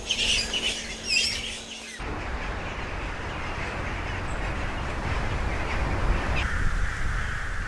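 Chattering bird calls at first, giving way to a dense, steady wash of distant egret colony noise with scattered cries, at a breeding colony in a bamboo grove.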